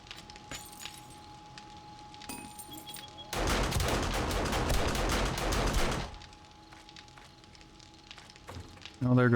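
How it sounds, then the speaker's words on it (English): Automated turrets firing during a horde night in a survival video game, a loud dense burst of rapid gunfire lasting a few seconds amid scattered clicks and quieter background noise. "there goes the turrets doing turret things again"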